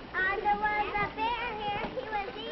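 Noisy school classroom full of children busy at work, overlapping young voices chattering and calling out close by in a short, continuous babble.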